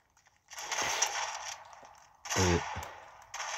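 Short bursts of submachine gun fire in the video game Fortnite, two main volleys with a third starting at the end, fairly faint and without talking.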